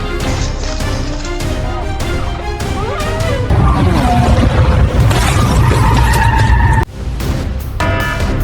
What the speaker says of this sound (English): these are the most insane car accidents caught on camera